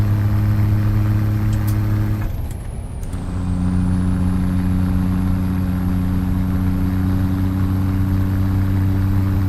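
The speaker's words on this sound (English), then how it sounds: "So it's a Z-Mods Big Cam Cummins" A Big Cam Cummins 855 truck engine idles in a truck-driving simulator, a steady deep droning hum broken by a short hiss of air brake release before the engine settles back to an even idle.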